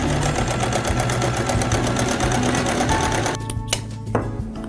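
A sewing machine stitches an apron pocket with a steady, fast, close mechanical whirr that runs continuously, then slows and stutters near the end as the seam finishes.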